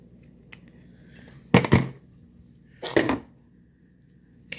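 Scissors snip yarn during a crochet edging worked around a zipper: two short, crisp cuts about a second and a half apart, close and fairly loud against a quiet room.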